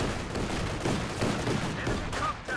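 Suppression fire from a Panzer II in the game Company of Heroes 2, a dense, continuous rattle of machine-gun bursts with rumbling battle noise, loud and unbroken.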